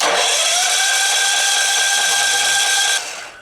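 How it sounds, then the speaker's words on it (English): A gasoline generator that has sat unused for two years, fueled with fresh gas, is cranked by its starter without firing: a steady, loud mechanical whir runs for about three seconds, then cuts off abruptly. "It sure don't sound like it wants to fire."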